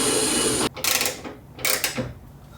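Ratchet with a hex size 6 bit driving a hood bolt in the engine bay of a Nissan GTR, close clicking bursts with a couple of distinct ratcheting pulls separated by short pauses.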